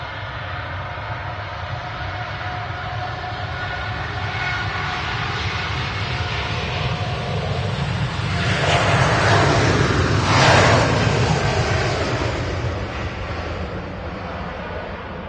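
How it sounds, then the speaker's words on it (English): A Virgin Atlantic Airbus A380 airliner throttles up at an airport, a broad steady roar that builds and peaks midway before easing slightly, heard from a distance with no talk. "Wow, Virgin A380. He's put that throttle down,"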